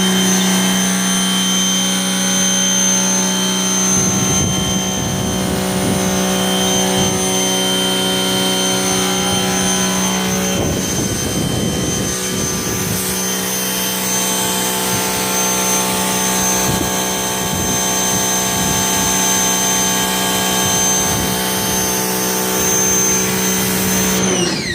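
Electric pressure washer running in a mobile car-washing setup fed by gravity from a tank, a steady mechanical drone with a constant whine, broken by a few louder spray bursts throughout.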